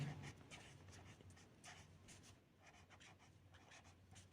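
Pen scratching across paper in quick, uneven strokes with short pauses, faint and close, while a low steady hum runs underneath.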